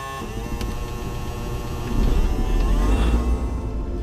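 A light aircraft's propeller engine runs steadily during a pre-flight run-up, a continuous droning hum that swells a little louder partway through and holds there, with no talking.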